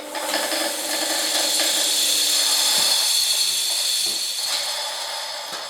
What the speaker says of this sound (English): the motor down there started up and started spinning